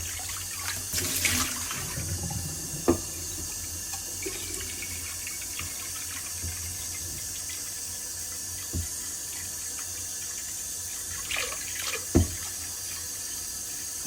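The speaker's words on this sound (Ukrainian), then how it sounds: "Набираємо трохи більше пів каструлі води." Tap water runs steadily into a pot, filling it just over half, a continuous hiss with a few clanks and knocks of metal along the way.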